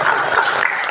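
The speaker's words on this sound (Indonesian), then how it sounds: "Tepuk tangan dulu." Audience at a gathering of a Chinese-Indonesian clan association in Bandung clapping briefly, a short burst of dense, loud applause.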